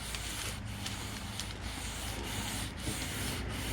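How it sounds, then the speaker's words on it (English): Steady hand sanding of peeling paint on the roof of a Fiat 500 Abarth Turbo, a continuous close rasping rub with faint regular strokes, no voices. "Be very gentle and just make sure everything is sanded very nicely."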